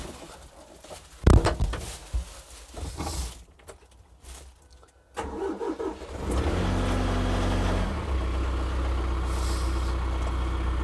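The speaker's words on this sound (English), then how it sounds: "I'll just drive the tractor off to show you how it works." A TYM F50CH tractor engine starts to pull away after a quiet stretch with pigeons cooing nearby, then settles into a steady, loud diesel drone that holds to the end.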